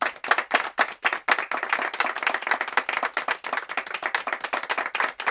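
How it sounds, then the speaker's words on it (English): Audience applause and clapping from a crowd at a stand-up comedy show, dense and steady throughout, fairly close and loud with no talking over it. "Let's give white people a round of applause."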